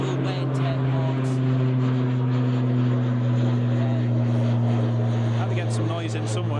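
Belgian Air Force A400 turboprop engines drone loudly and close at an airport, with strong steady propeller tones that run throughout while someone talks over them.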